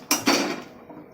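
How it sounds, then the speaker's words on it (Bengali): A metal wok set down on a gas stove while cooking vegetable Maggi noodles with onion and tomato, giving two quick close metallic clanks that ring briefly and fade, with no talking. "গ্যাসটা অন করে এই কড়াইটা"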